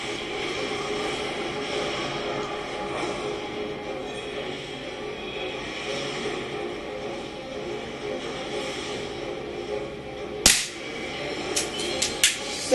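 A GAMO Compact .177 air pistol fires a single sharp crack late in a quiet indoor target-shooting session, followed by a few fainter clicks.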